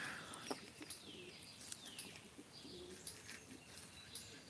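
Pigeons in a farm video game coo softly and repeatedly, with a few chirps and light flutters over a quiet ambient background. No one speaks.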